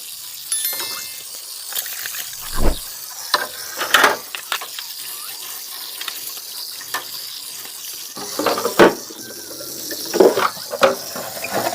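Splashing water and sharp clatters of fiber refrigerator trays being handled and rinsed under a running tap, with irregular bursts of knocking and running water.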